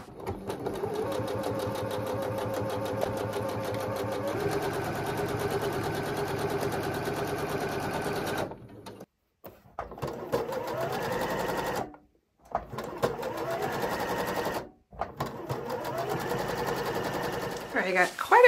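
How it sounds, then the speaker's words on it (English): A sewing machine stitches small fabric scraps together for crumb quilting, its rapid, even needle rhythm running close and steady, stopping briefly a few times before starting up again. "I'm going to keep going by sewing a few more pieces together."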